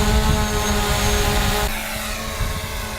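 A camera drone hovering overhead on Fraser Island, a steady high-pitched buzzing whine with layered propeller tones, loud and close, easing slightly as it shifts position.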